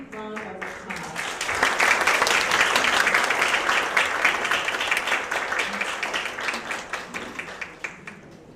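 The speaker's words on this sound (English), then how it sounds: "Please give him a big round of applause." Conference audience applauding at an opening ceremony, a dense wash of clapping that swells after a moment, holds steady, then thins and fades out.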